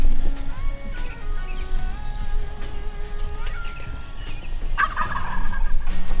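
Wild turkeys gobbling outdoors during a Wisconsin turkey hunt, with a loud, rattling gobble near the end that stands out over a busy background of other turkey calls and birds.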